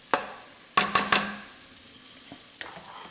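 Butter and flour cooking into a roux in a pot give a soft sizzle under several sharp clinks and scrapes of a utensil stirring against the pan.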